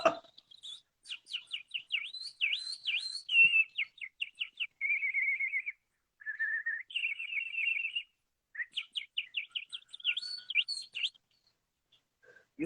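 Several songbirds chirp and sing close by in quick, varied phrases of twittering notes and steady trills, with brief pauses between bursts and no voices.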